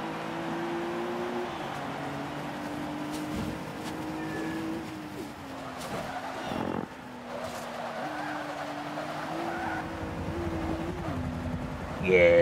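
A Rolls-Royce Wraith is lapping a track in the racing game Forza Motorsport 5. Its engine holds a steady drone whose pitch steps up and down repeatedly with gear changes, with no pause for 12 seconds.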